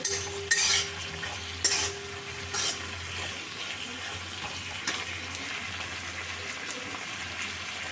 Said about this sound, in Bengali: আদা লঙ্কা বেটেছি সেটা দিয়ে দিচ্ছি মশলাটা বানিয়েছি সেটা দিয়ে দিচ্ছি এগুলো দিয়ে সব ভালো করে নেড়ে নিচ্ছি